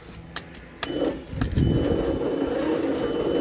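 An old Leyland COE truck engine cranks slowly on its starter, with a few sharp clicks at first and then a steady, labored low churning rumble, close and loud.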